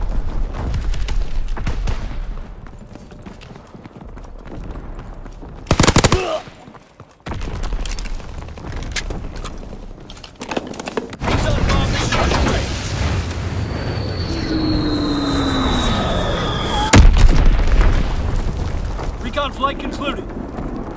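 Video game bombing run with heavy booms and blasts rolling through, a sharp explosion midway and another near the end, plus whooshing passes, while a voice speaks over the battle.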